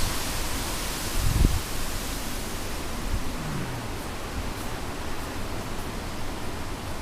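A dense, steady roar of hurricane wind fills the whole recording, with one brief low thump near the start.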